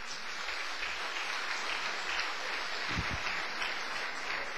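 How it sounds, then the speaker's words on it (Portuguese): A church congregation applauds in praise of the Lord, a steady wash of clapping heard from a distance, soft and even, with a couple of low thumps near the middle. "Uma salva de palmas para o Senhor."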